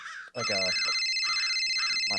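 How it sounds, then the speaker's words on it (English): A warbling electronic ringtone chirps repeatedly in a quiet room, with brief speech at the start. "my phone's ringing."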